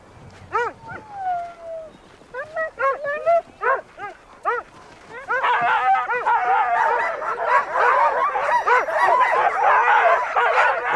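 Sled dogs bark and yip in short close bursts, then a whole pack breaks into a dense, continuous chorus of excited barking and howling-like yelps.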